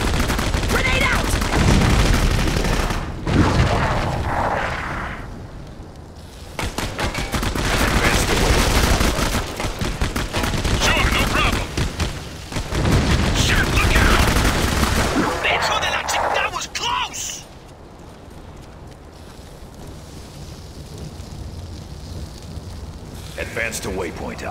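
Gunfire and a grenade explosion in the horror shooter Clive Barker's Jericho: loud, dense bursts of shots and blasts for about fifteen seconds, then a quieter rumbling stretch, with game voices calling out orders.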